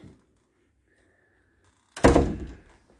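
A door at a day nursery swings shut with a single solid thunk that fades quickly, following a near-silent moment in the room.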